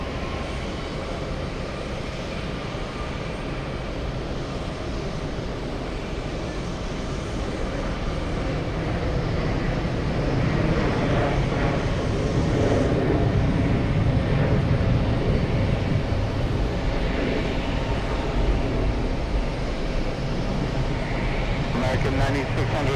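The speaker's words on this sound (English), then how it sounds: "Let's go for the flight from Anchorage, landing 10 minutes" Airliner inbound from Anchorage landing at JFK, a steady broad engine roar that swells slightly louder toward the end, heard outdoors with people talking over it.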